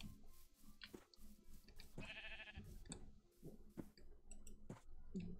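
A blocky Minecraft sheep bleats in short wavering calls amid scattered clicks and game sounds during tornado survival play, the bleats fairly quiet and interrupted by sharp ticking noises.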